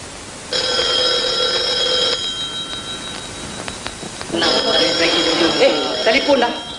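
An old telephone bell from a 1962 Malay film rings in two bright, metallic bursts, the first around two seconds long, then a pause and a second ring, fairly close and loud.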